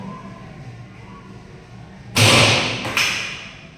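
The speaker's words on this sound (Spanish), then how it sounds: "Se inserta por la parte superior y vamos a realizar el disparo" A projectile launcher in a projectile motion physics lab fires with a sharp, loud thud about halfway through, followed by a second smaller impact just after, over a quiet room hum.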